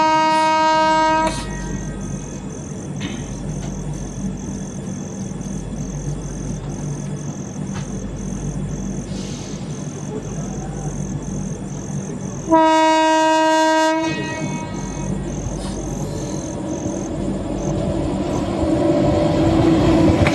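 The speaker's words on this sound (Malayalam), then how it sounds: "ഇത് എറണാകുളം മഡ്ഗാവ് വീക്ക്ലി എക്സ്പ്രസ്." The Ernakulam–Madgaon Weekly Express passes on a moonlit night: a loud horn blast opens, a steady rolling rumble of wheels follows, and a second long horn sounds near the end.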